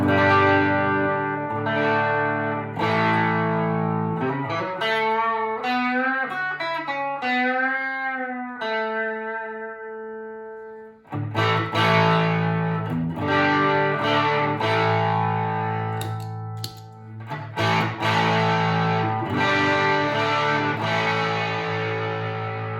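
A heavily overdriven electric guitar through a TC Spark overdrive pedal with the gain cranked plays loud sustained chords and a gliding lead line, thick and saturated, with a brief pause midway before the chords return.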